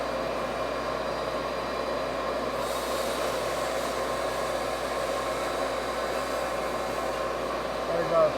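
A sawmill vacuum dust collection system runs with a steady, dense broadband roar and whoosh, unbroken from start to finish at a constant loud level.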